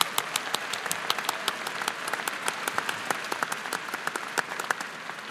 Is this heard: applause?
yes